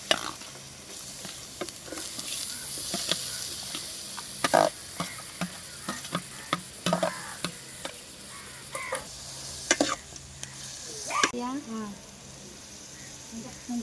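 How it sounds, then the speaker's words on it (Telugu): Onions sizzling and frying in hot oil in a home kitchen while cooking prawn curry, with steady crackle, intermittent stirring clatter, and people chatting nearby. "మౌనిక ఉల్లిపాయలు వేసేయండి, నూనె కాగిపోయింది."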